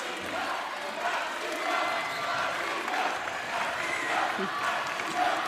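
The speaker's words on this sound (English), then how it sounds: "the Sheffield Shark fans cheer on the Tiba Lions" Sheffield Sharks fans cheer and clap steadily throughout a Super League basketball game in the arena, a broad crowd roar holding at a constant level with some voices mixed in.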